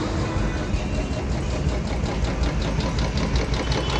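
Royal Enfield Electra motorcycle engine idling steadily, a close, even mechanical chatter with a fine rapid tick running throughout, no voices present.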